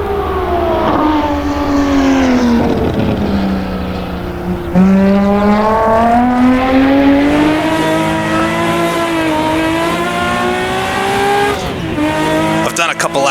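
A 1960s sportscar racing in Assetto Corsa, its engine revving and climbing through gears with tyre squeal as the car slides on warming tyres, loud and close, with someone talking over it.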